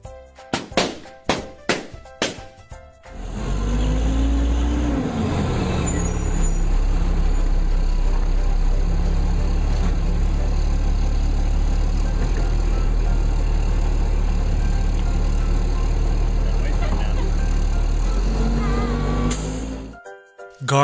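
A garbage truck on a street, with a few short knocks at the start, then a loud, steady diesel engine rumble with a hissing air brake release, sustained close by for most of the clip before stopping abruptly.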